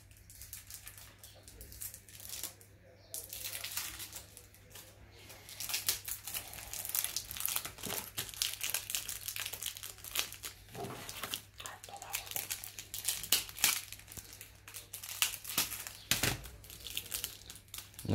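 Plastic wrapping is crinkled and torn off a package while unboxing a first batch of records, a steady run of close crackling and ripping bursts, with quiet talk in between.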